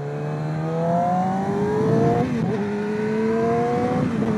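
A Yamaha R6 sport motorcycle fitted with an SC Project exhaust revs steadily, its engine tone climbing and dipping in smooth sweeps over about four seconds, loud and close with no voices.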